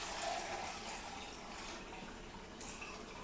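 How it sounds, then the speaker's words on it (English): Water pours steadily into blender containers in a kitchen, a continuous splashing and trickling fill that runs throughout at moderate level, with no talk over it. "I'm going to add exactly 2 cups of water into each container"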